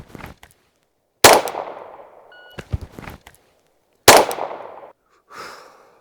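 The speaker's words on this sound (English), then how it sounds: "we're gonna do one shot from concealment onto the steel" A handgun drawn from appendix concealment fires once at a steel target on an outdoor range, giving a sharp loud crack. Other sharp bursts and softer handling clatter fill the short clip, with brief quiet gaps between them.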